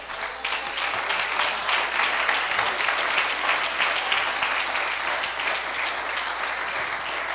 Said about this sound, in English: If you believe it, clap your hands to the Lord.